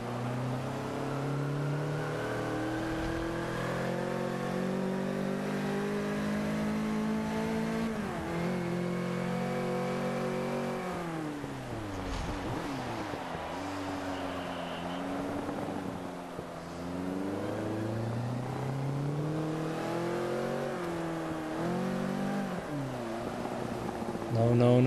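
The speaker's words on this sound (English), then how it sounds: "For some reason I just started gunning the car when I'm going sideways." A race car engine in the Forza Motorsport 5 video game at Road America revs continuously, pitch climbing and dropping through gear changes, with the player talking over it.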